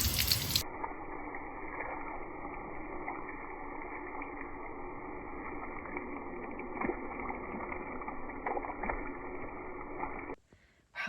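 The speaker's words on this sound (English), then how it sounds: "turn on our hose here. And absolutely go to town." A garden hose sprays water steadily onto stained glass, a continuous broadband hiss and splash that holds even for about ten seconds before cutting off, close and fairly loud.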